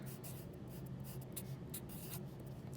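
Art sticks scratch across paper while a box is colored in, a steady run of quick, close scraping strokes with no talk.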